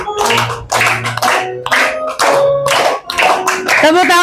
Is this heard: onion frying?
no